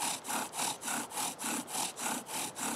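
A bow drill spindle spins against wood to make fire, producing a steady rhythmic rasping of about nine back-and-forth strokes, close and fairly loud with no talking.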